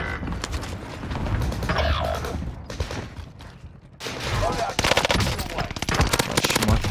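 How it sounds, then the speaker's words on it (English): Burst-fire gunfire rattles in Call of Duty Warzone on Rebirth Island as an M16-like burst rifle and an MP40 fire from a tower, with dense rapid volleys and repeated short bursts. "now you're shooting from the tower"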